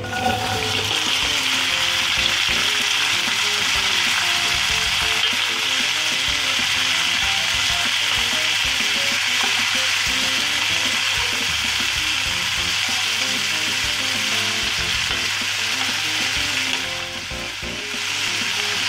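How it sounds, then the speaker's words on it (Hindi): Cauliflower florets fry in a little oil for aloo gobi, giving a loud, steady, continuous sizzle with scraping and stirring clicks throughout, easing slightly near the end, with no talk. "ये देखिए मैंने थोड़ा सा ऑयल डाला है, इसमें अब गोभी डाल के फ्राई करनी है।"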